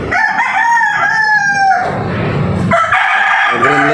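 A pure Lemon 84 gamefowl rooster crows loudly and close up, with two drawn-out cock-a-doodle-doo calls and a brief cluck between them.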